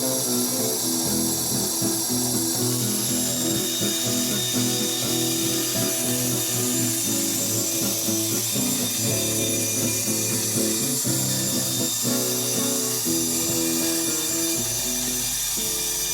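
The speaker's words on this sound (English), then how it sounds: "We're going to use a small bandsaw to cut away most of the wood." A small bandsaw cutting away the bulk of the wood for a guitar body, giving a continuous mechanical whir with rhythmic rattling and clicking throughout, loud and close.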